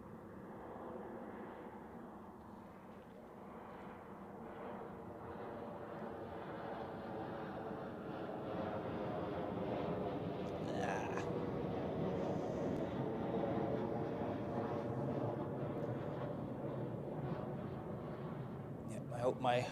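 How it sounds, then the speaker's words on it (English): A Helvetic Embraer 190 jet lands at Zurich Airport, its engine roar building from a distant rumble to a loud, sustained close pass, with someone talking over it. "we now go for the Helvetic Embraer 190 from Nice in southern France"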